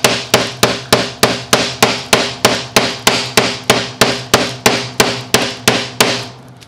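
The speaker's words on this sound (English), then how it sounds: "I'm gonna use this hammer this time." Rapid, evenly spaced hammer blows ring out on a metal panel coated in SPI epoxy primer, about three strikes per second, loud and close, continuing for several seconds.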